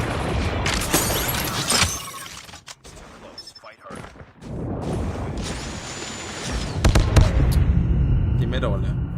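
Rapid bursts of gunfire in the mobile shooter game Call of Duty Mobile, sharp crackling volleys starting and stopping in irregular clusters, loud and close, with excited talk running over them.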